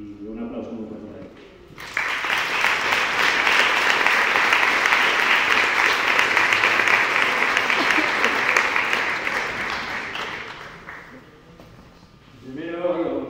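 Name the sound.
audience applause at a conference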